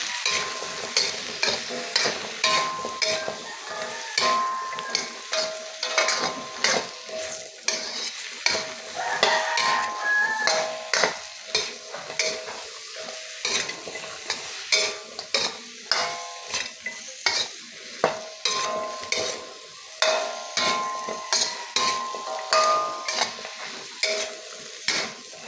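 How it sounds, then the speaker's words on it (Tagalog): Green beans and sliced carrots are stirred in a pan for chop suey, a spatula scraping and clattering in a steady repeated rhythm over a continuous sizzle, close and fairly loud with no talking. "Haluin lang natin ito."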